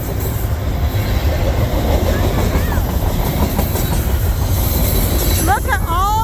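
Freight train of lumber, oil and cattle cars on the Indian Creek rail line, a loud continuous close rumble of wheels and cars with squealing metal near the end.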